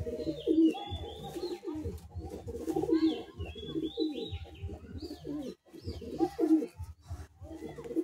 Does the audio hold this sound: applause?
no